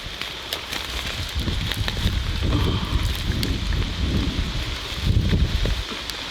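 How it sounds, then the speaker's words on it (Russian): A strong stormy wind roars and buffets the microphone at an outdoor hammock camp, with rain falling, leaves rustling and low rumbling gusts that swell and ease throughout, loud and close, and no one speaking. "Что же у нас такой ветер безумный постоянно?"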